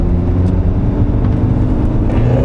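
An Audi A8 D3 engine runs loud and close, a steady, dense rumble with no clear rise or fall in pitch.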